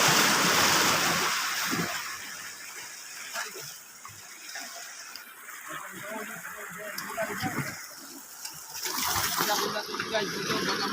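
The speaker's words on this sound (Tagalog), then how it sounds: "Grabe lakas ng alon." Strong sea waves wash and surge against the shore, loud at the start, easing in the middle and building again, while a person talks nearby.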